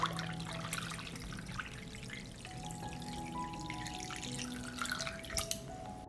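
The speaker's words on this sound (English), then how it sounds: "I pour hot water into the pot up to the height of the lid." Hot water poured into a cooking pot holding jars, filling it up to lid height: a steady trickling, splashing pour with dripping, continuous and close for about six seconds, no voices.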